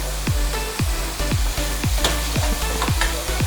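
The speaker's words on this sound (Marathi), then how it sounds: "हे व्यवस्थित असं फेटून घ्यायचं आहे।" A whisk beats a cooked mix of toor and moong dal in a steady rapid rhythm, about two strokes a second, each a wet slapping churn, close and alone.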